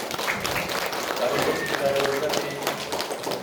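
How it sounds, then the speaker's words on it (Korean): Church congregation at a Sunday morning service breaking into sustained applause, a busy crackle of many hands clapping together with voices mixed in underneath. "우리 하나님 앞에 영광의 박수 한번 올려드리겠습니다."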